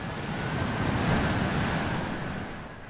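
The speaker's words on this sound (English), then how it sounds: "have the sound of just the waves. Or just simplify it even more so and have the waves and the wind." Ocean surf washing steadily with wind noise across the microphone, a continuous broad roar that swells slightly mid-way and eases toward the end, with no voices.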